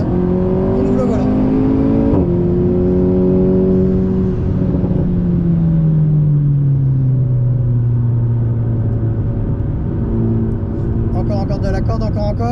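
A car on a race track, driven during a coaching session, engine droning and then accelerating with a steady rising then falling tone, loud and close, under an instructor's voice speaking in the car.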